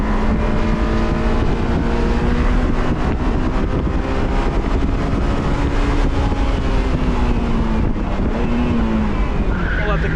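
A 2001 Honda S2000 engine runs loud and close at a track day while its gearbox warms up, a steady droning hum with slight pitch shifts and a voice speaking faintly over it.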